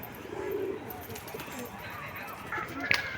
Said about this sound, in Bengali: এইমাত্র উড়ে নামলো একটু পায়রাগুলোকে বসতে দিই